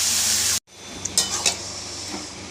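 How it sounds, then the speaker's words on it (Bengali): Chunks of bottle gourd tipped into hot oil tempered with whole cumin seeds, setting off a sudden loud, steady sizzle with a few stirring scrapes and clinks of a utensil against the pan. "এবার তেল গরম হয়ে গেছে, এর মধ্যে লাউগুলো ঢেলে দেবো।"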